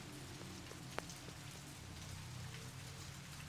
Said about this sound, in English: I don't know why this area is, like, raining all the time